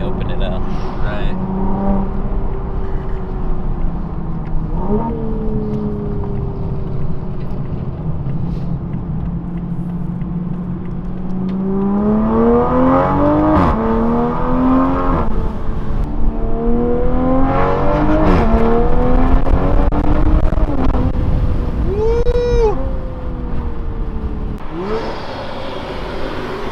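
Toyota Supra fitted with a racing muffler, heard on a test drive as the engine revs rise and fall in several pulls, its deep rumble swelling loud and then easing back, with people talking inside the car.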